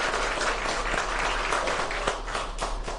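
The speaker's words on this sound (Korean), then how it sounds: "여러분 찬양해 주신 우리 성가대 친구들에게 감사의 박수 다시 한번 하겠습니다." A congregation in a Hanyang University chapel service applauds the choir in thanks, a dense and continuous round of clapping that holds at an even level throughout, with no voices over it.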